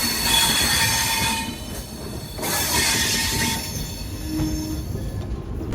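A Humsafar Express hauled by a WDP4 diesel locomotive creeps slowly past track work near the Jolarpettai bypass, wheels grinding and squealing on the rails in a steady, loud rumble with a thin high screech partway through.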